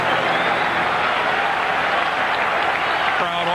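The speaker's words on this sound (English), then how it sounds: "Crowd offers encouragement." A packed baseball stadium crowd at a Reds–Dodgers playoff game roars and applauds in a loud, sustained wash of cheering that holds steady throughout.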